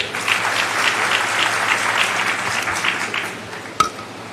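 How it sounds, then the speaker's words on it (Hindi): Steady audience applause at an official government gathering welcomes a presenter. It holds at an even, fairly loud level for several seconds, with one sharp knock near the end. "तालियों से स्वागत करें"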